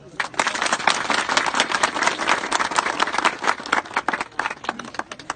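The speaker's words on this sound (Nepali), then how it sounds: "सबैले उहाँलाई एकचोटि ताली भएर स्वागत गरौँ" Village gathering in Nepal clapping to welcome a guest, brisk dense applause from a crowd, close and lively, running steadily from start to finish.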